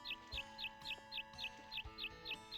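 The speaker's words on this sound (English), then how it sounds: "Why is that bird so loud?" A bird in the Harvest Moon 64 video game chirps loudly, sharp repeated calls coming in an even rhythm about four times a second over looping background music, no talking.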